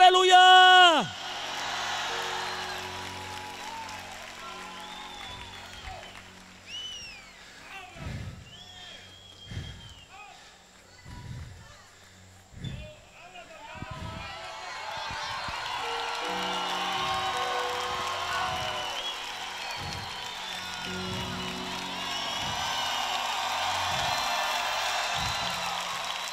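A church congregation at a worship service cheers and shouts, building into broad sustained crowd noise over a thumping beat after a stretch of spoken preaching with scattered thuds.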